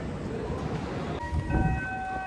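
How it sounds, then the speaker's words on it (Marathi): A double-decker train pulls into a station in the Netherlands with a steady low rumble, and a thin tonal whine rises near the end as it arrives. "ही डबल डेक आली बघा."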